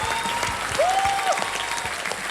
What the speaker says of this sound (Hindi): तालियां बताओ।